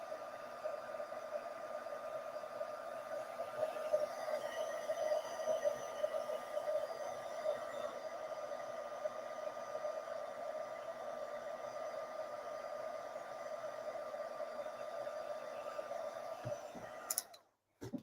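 A heat tool blows with a steady, even whoosh and hum as it melts embossing powder on a Christmas card, running continuously before cutting off near the end.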